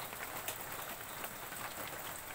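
Steady rain pattering on crops outdoors, a soft continuous wash of drops with faint scattered taps, fairly quiet and unbroken.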